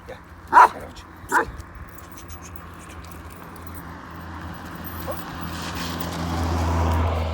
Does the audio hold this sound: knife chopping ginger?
no